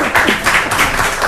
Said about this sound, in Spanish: Un aplauso aquí a los colegas.